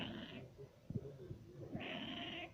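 A house cat gives a couple of odd, strained meows, faint and close by, with quiet gaps between them.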